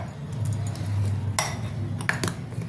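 Baking powder is stirred into carrot malpua batter in a bowl, a faint, close scraping with light clinks of a utensil against the bowl, including a sharper knock or two.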